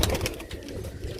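Pigeons for sale coo in low, repeated murmurs that run on without a break, some close and some farther off.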